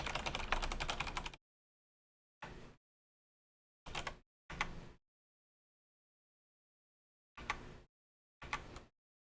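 Bursts of computer keyboard typing: a long dense run of keystrokes at the start, then five short separate clusters of key taps, close and clear, with silence between and no voices.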